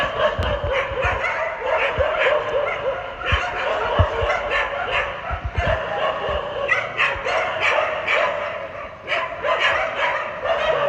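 Several dogs chasing a vehicle in the early morning bark and yelp in a busy, overlapping chorus, close by and fairly loud, with short sharp bursts throughout.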